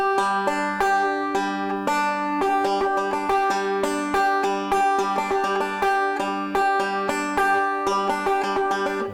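A banjo picking a steady stream of bright plucked notes in a roll pattern, the timing uneven and wobbly, played close with no voices.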